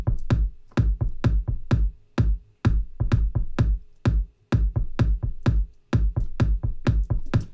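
A punchy electronic kick drum in a dance track, layered with a secondary sub kick for groove, thumping in a steady, slightly syncopated pattern with brief gaps, loud and dry with no talking.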